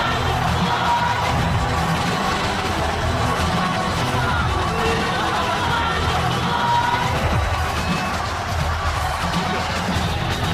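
An arena crowd in Chicago cheers steadily in the WWE 2K22 video game during a Triple H versus MJF match, a dense continuous roar with scattered yells and whoops throughout.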